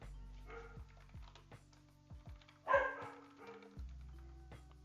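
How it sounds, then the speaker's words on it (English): Several dogs barking a few times at a distance, short sharp yaps scattered over a quiet room with a low electronic hum. "there goes the dogs again"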